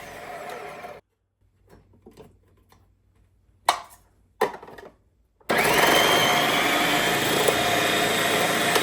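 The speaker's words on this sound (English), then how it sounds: "Then hold it into place with the food pusher before pressing the on button." A Cuisinart 7-cup continuous feed food processor slicing an onion: a few knocks and clicks as the pusher is set, then the motor starts with a loud, steady whirring hum that runs to the end.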